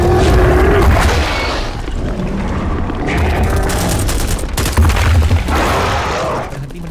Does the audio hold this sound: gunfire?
yes